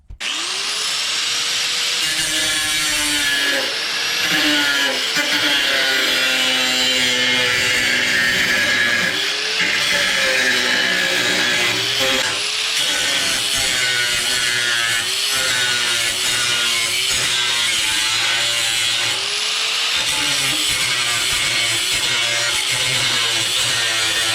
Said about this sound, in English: clamp it fast here and cut that off